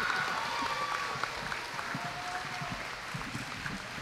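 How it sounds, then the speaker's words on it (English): A crowd at an athletic awards night applauds steadily, a dense wash of clapping that holds at an even level throughout. "please give a round of applause"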